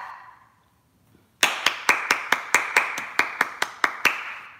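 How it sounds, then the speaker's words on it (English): After a near-silent pause, hands clap about a dozen times in an even, steady rhythm, each clap sharp, close and loud, one after another without other sounds. "hand clap for me"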